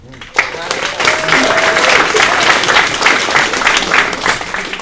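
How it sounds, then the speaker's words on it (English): Loud applause from the audience at a boxing club bout breaks out after a brief pause and holds steady for several seconds, with crowd voices faintly mixed into the clapping. "I want to give a round of applause to all the fighters in the bout"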